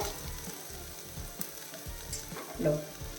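Tomatoes with coriander leaves are sautéed in a pan, giving a soft, fairly faint sizzle with gentle rhythmic stirring scrapes.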